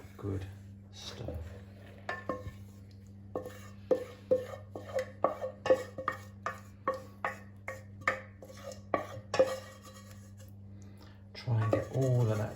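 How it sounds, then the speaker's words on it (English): A spoon scrapes and knocks in a bowl as melted chocolate is stirred into the dry ingredients for a Maltesers rocky road, with steady rhythmic taps and scrapes under an ongoing background hum and some talk. "We're going to transfer that into the dry ingredients and give it a really good stir."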